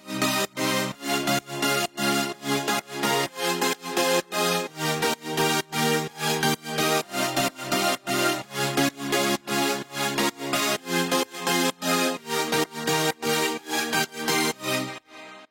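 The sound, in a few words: synthesizer chords of an electronic track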